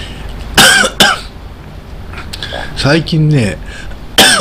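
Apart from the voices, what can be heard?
coughing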